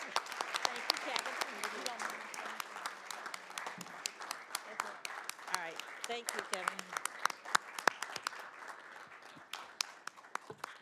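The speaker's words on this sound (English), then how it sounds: "let's give Kevin another round of applause" Applause from a county commission meeting audience, many scattered claps at moderate distance, continues while someone speaks briefly over it, thinning toward the end.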